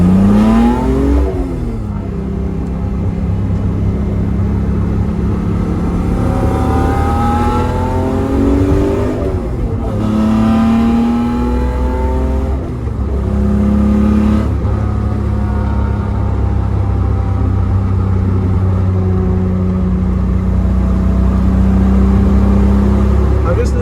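A car fitted with a Thrush 17715 turbo muffler on a Z-Story race/sport manifold with a centre resonator accelerates through the gears, its exhaust note rising and falling in sweeping revs, loud and close, with brief talk over it.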